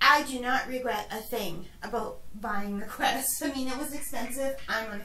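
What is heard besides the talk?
No everyday noises stand out.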